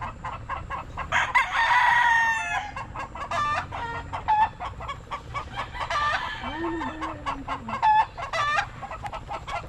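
A stag rooster on a farm crows loudly and clucks repeatedly, with close, sharp calls and some fainter bird sounds in the background.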